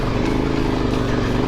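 A KTM motorcycle engine drones loudly and steadily as the bike climbs a loose, rocky trail, the low rumble constant throughout with wind noise on top.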